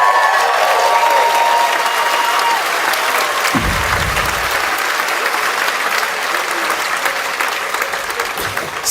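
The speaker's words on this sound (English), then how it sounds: "hold for applause" At a graduation ceremony, a large audience applauds warmly and continuously for a speech, a dense wash of clapping that fades only slightly toward the end.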